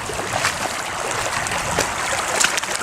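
Water rushes steadily through a homemade sluice box about 38 inches long and 7 inches wide, with gold hog matting, set up outdoors; a close, continuous gurgling wash with small splashes.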